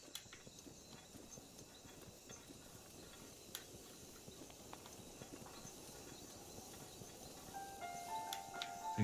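Horse hooves clip-clopping steadily in The Legend of Zelda: Breath of the Wild, a soft, even rhythm under a constant ambient wash of hiss and game atmosphere, with no talking.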